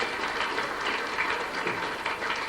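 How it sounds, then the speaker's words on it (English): Audience applause for Canon Tommy Doherty at a Golden Jubilee evening in Raphoe, 1987, a steady dense wash of clapping from a hall crowd, sustained evenly throughout with no talk over it. "Will you give Canon Tommy a real big clap?"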